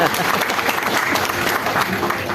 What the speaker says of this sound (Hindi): तो आप सबके लिए एक तालियां हो जाए